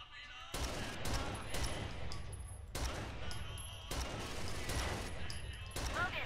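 Rapid bursts of gunfire from the video game Rainbow Six Vegas, a dense, continuous fusillade of repeated shots with brief gaps, loud and close throughout.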